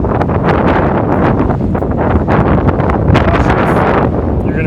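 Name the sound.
wind blowing over a building rooftop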